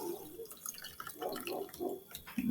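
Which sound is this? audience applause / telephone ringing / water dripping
water dripping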